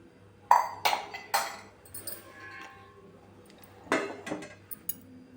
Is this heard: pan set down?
yes